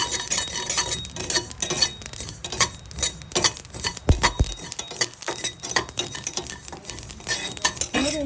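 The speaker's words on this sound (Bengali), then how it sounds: "ভেজে নেব কালো করে" Tea leaves are dry-roasted until black in a pan while a spatula scrapes and stirs them in steady, rapid rhythmic strokes, loud and close, with no talking.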